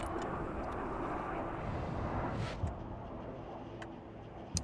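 A Little Bird helicopter flying in a video game, heard as a steady, droning engine and rotor rumble that holds throughout, with faint ticking clicks on top.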